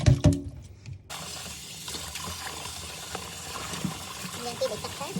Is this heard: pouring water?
yes